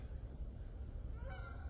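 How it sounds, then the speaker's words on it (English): A single faint goose honk rises briefly out of steady low background rumble in a quiet outdoor setting near water. "Goose."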